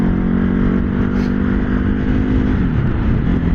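A motorcycle without a quick shifter rides along with its engine running as a loud, close, steady drone, the pitch dipping briefly as it shifts, with no talking.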